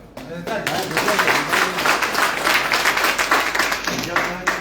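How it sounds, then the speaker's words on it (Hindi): An audience at a leadership program claps steadily throughout, a dense continuous patter of many hands. "बात अच्छी लगे तो ताली बजाना।"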